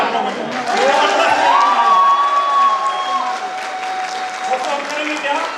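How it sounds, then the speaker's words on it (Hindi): An audience at a crowded gathering breaks into sustained applause with cheering and shouting, loud and close throughout, with voices mixed into the noise. "चाइनीज लोगों के लिए जबरदस्त ताली आप लोगों को।"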